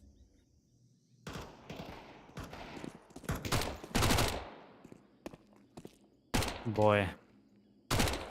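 Gunfire in a Counter-Strike 2 competitive match, several sharp bursts and single shots spread across the clip, loud and close, with a brief voice and in-game effects between shots.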